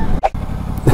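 Motorcycle engine droning steadily while riding, a loud close rumble with wind noise, briefly dipping once before continuing.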